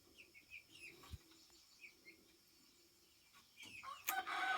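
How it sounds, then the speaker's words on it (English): Backyard chickens, young birds grown from chicks in a garden coop, give soft scattered clucks and chirps against a quiet background, with a louder burst of calls toward the end and no talking. "My little chicks are big chicks now."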